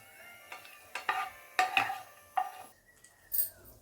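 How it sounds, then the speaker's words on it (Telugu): Fried raisins, almonds and dry fruits are scooped from a pan into a bowl: a handful of close, bright metallic scrapes and clinks over a faint background sizzle. "వేగిపోయిన కిస్మిస్ బాదం పప్పు డ్రై ఫ్రూట్స్ అన్నీ కూడా నేను బౌల్లోకి తీసుకుంటున్నాను"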